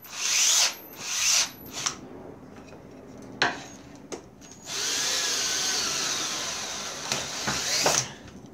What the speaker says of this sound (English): The drill is running and it is drilling, but it still does not get the amount of amps it needs.